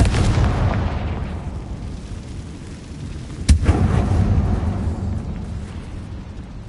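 Confringo blast spell cast in the Hogwarts Legacy video game, a heavy booming explosion with a long rumbling roar that fades, then a single sharp crack and a renewed low rumble.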